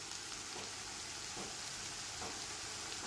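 Ginger-garlic paste fries with browned onions in a pan, giving a steady, even sizzle with faint stirring scrapes and no talk.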